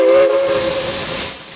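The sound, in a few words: Southern 4501 steam locomotive whistle blasts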